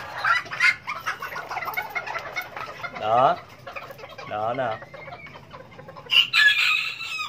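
A trimmed serama bantam rooster clucks and gives short, close crowing calls in bursts, with a brief voice speaking at the start.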